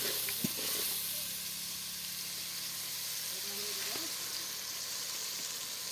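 Onion frying in oil in a pan on a home stove, a steady close broadband sizzle and hiss running throughout, with a few faint clinks.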